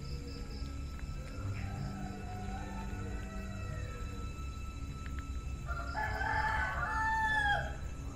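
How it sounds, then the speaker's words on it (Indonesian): Roosters crowing at night out in the open, a faint distant crow early on, then a louder, nearer drawn-out crow near the end over a steady low background hum. "Di mana sekarang sudah banyak ayam berkokok."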